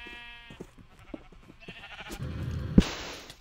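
Sheep bleat in a video game, a couple of nasal bleats among clicks and small game noises, followed by a sudden loud burst of sound near the end.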